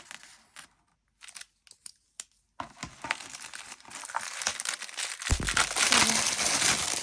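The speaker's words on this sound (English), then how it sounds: "So I suggest we take that cellophane off pronto." Cellophane wrapping crinkles and tears as it comes off a packaged sleigh bed, starting with a few sparse crackles, then building into dense, continuous rustling that grows louder toward the end.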